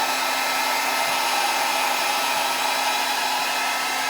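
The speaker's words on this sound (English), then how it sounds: "I'm gonna take my blow dryer and just kind of go over the top of it in a heat mode to pop some of the bubbles" A blow dryer on heat mode runs steadily and loudly at close range over wet acrylic pour paint, a continuous even whoosh with no breaks and no voices.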